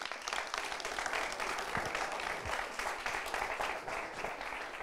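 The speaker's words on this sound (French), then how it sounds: "Je vous demande à nouveau de les applaudir" Studio audience at a televised team game-show final gives the two competing teams a sustained, dense round of applause that holds steady at full volume throughout.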